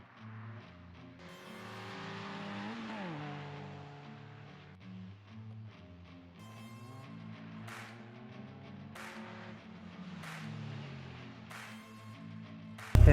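A Caterham 7 on a sprint run at Curborough, its engine droning steadily from inside the car, climbing through revs, dropping sharply at each gear change, then rising again in repeated surges over about thirteen seconds.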